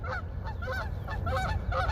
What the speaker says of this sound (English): I'm glad those geese are leaving.